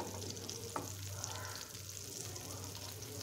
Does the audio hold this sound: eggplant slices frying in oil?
yes